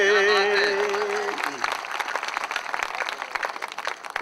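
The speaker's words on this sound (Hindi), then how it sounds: "जो कमजोर तालियां हैं ये मुझे बता रही हैं कि मैं आपका नहीं हूं।" Thin, weak applause from a poetry recital audience at a kavi sammelan, a scattered patter of clapping that rises as a sung or voiced tone fades out and then carries on alone for several seconds.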